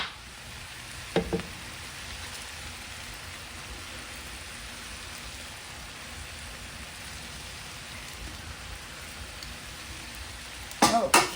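Scallops sizzling in a pan with homemade three-meat fried rice, a steady hiss of frying throughout, broken by a brief clatter near the start and another cluster of knocks at the very end.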